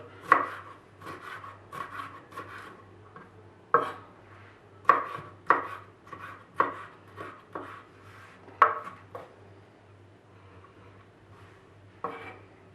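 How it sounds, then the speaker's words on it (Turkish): Knife chopping yellow and red bell peppers into cubes on a cutting board, sharp irregular taps in short bursts with pauses between, close and clear with no talking. "biberlerimizi küp küp doğruyoruz"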